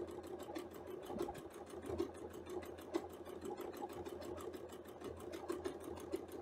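A sewing machine stitches quilt fabric in a fast, even, rapid-fire rhythm of needle strokes, heard close and alone at low volume.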